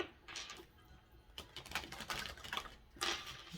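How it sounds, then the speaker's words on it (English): Oracle cards shuffled by hand, a run of quick papery riffles and slaps in irregular bursts, close and fairly faint with no voices. "One more shuffle,"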